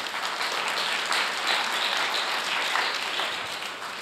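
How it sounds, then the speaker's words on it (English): Sustained applause from a conference audience greeting the host at a guidance professionals' conference opening, steady and dense throughout with no speech over it. "Our host, please, a round of applause."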